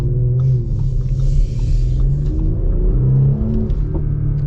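A 2025 Audi SQ5 engine rumbles and rises in a couple of deep revving swells inside the cabin, steady and loud, with no voices over it.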